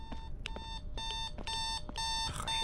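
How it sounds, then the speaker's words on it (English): An alarm clock rings in Phasmophobia, a shrill electronic tone pulsing in rapid, evenly spaced bursts, loud and close, with no talk over it. "They don't make alarm clocks with that sound anymore."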